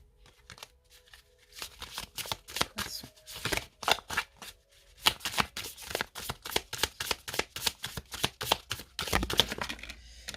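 Oracle cards being shuffled by hand in a steady run of crisp riffling flicks and papery slaps, close and clear with no talk over them.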